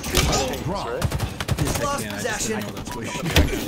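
Rapid gunfire in Halo Infinite during a ranked Oddball match, sharp repeated shots in quick bursts layered over game effects and players talking.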